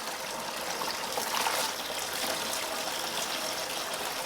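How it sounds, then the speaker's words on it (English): Cold water forces sediment and gunk out of a water heater's drain valve into a bucket, making a steady rushing trickle with a slight surge partway through, close and continuous with no voices. "we have cold water coming in, pushing gunk out of the valve into our bucket"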